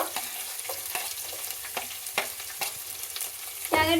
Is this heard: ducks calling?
no